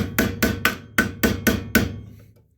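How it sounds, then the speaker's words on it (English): Seven sharp hammer blows knock out the rivets of Kohler engine motor mounts on a garden tractor, in an uneven rhythm, close and loud, with a short ring fading after the last strike. "knock the rivets out like that"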